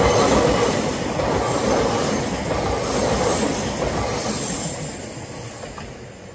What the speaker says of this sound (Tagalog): Dumaan yung train dito.